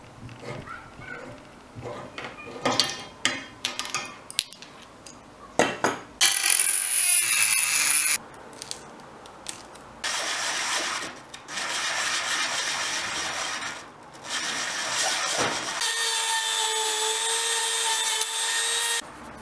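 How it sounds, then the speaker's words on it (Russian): A wooden vampire cane is worked by hand, with scattered scraping and rubbing strokes followed by longer bursts of abrasive grinding, close and fairly loud. A high whine joins near the end. "А пока я шкурю, предлагаю доделать трость."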